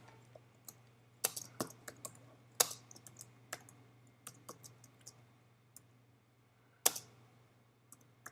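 Someone types a file name on a computer keyboard: a scattered run of crisp, close key clicks with uneven gaps, over a low steady hum.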